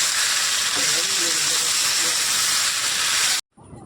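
A pressure cooker boiling taro curry lets off a loud, steady hissing whistle of escaping steam up close for a few seconds before it cuts off abruptly.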